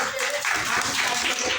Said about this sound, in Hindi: ताली बजा के स्वागत करते